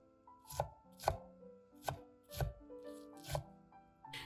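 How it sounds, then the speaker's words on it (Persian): A knife dices an onion on a cutting board in six or seven distinct, evenly spaced strikes, close and crisp, with quiet gaps between. "اول از همه یه دونه پیاز رو نگینی ریز خرد کردم."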